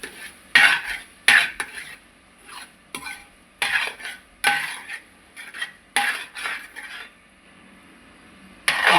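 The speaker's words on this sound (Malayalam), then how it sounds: "നമ്മൾ ചെറുപയർ ഇട്ട് നല്ലതുപോലെ ഇളക്കി മിക്സ് ചെയ്യുക" Green gram being stirred and mixed into masala in a pan: a spoon scrapes and clatters against the metal in irregular bursts with short pauses between strokes, close and fairly loud.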